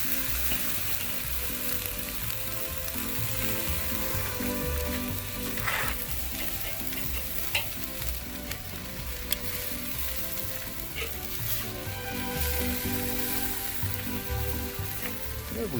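Carne asada sizzles on a grill after being flipped, a loud steady crackling sizzle with occasional sharper pops, set against faint background music.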